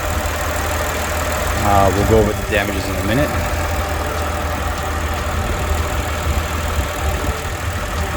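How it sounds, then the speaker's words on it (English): A 2020 Chevrolet Blazer RS, a salvage vehicle, idles steadily with the hood open, its low engine hum running throughout while someone speaks briefly over it near the start. "As you can see, the engine is running perfectly."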